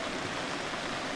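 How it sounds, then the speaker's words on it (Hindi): Fast, heavy flood water rushing down a river during a flash flood in Poonch, a dense broadband roar that stays steady and loud throughout with no voices over it. "पानी बहुत ज़्यादा तेज़ है"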